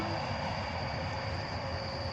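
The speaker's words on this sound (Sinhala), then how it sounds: "ඕන් යකෝ කෝච්චියට යනවා." A train passes beside rice fields, producing a steady, loud rumble and rolling rail noise with a faint sustained whine, continuous throughout with no talking.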